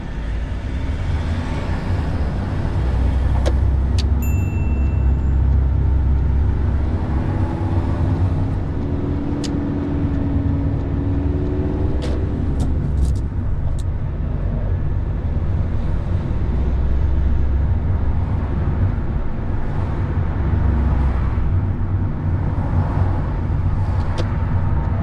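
A learner driver's car pulls away in first gear on a London road during a mock driving test, heard from inside the cabin as a steady low engine drone with a brief rising rev partway through.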